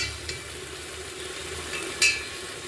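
Chopped tomatoes fry and are stirred in a pan, with a soft steady sizzle and a few faint scrapes, one slightly louder near the end.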